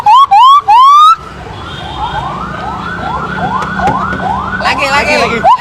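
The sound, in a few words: child imitating a police car siren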